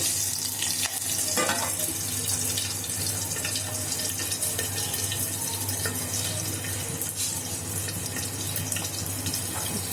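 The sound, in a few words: green chillies spluttering in hot oil while making rava dhokla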